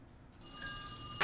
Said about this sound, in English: We got a phone call coming in.